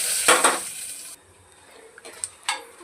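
Bay leaf and spices hit hot ghee for jeera rice, giving a loud sizzling hiss that drops off after about a second, followed by faint clinks of utensils.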